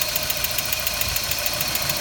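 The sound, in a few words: 1990 Mazda Miata 1.6 liter engine idling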